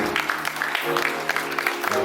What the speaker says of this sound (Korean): 자, 여러분 다시 한번 따뜻한 박수 부탁드립니다.